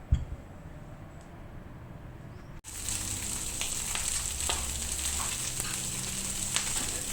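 Sardines sizzle in a dry frying pan with no oil, a steady crackling hiss that turns loud and dense partway through after a quieter opening, close up with no voices.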